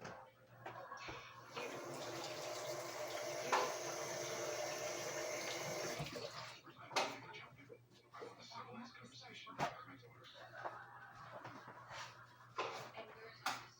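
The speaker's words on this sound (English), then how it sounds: "we're going to take and wash the red pepper" A red pepper is rinsed under a running kitchen tap, with steady water flow for several seconds before it stops and a few clinks and short splashes follow, while a voice speaks faintly in the background.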